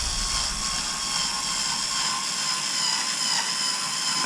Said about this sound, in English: I'm using a screwdriver that's got about 1 Newton-meter of torque